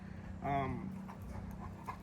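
A smaller-sized dog pants close by, with a brief whiny vocal note at the start, while people talk over it.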